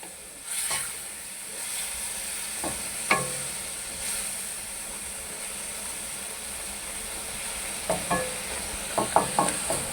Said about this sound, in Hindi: अब मैं इसके अंदर बैंगन डाल रहा हूँ, ये वाले जो हमने फ्राई करके निकाले हैं।